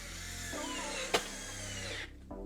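A power drill drives sheet metal screws while mounting new flooring in a party bus: a close, loud motor whir that shifts pitch partway through, pauses briefly, then restarts.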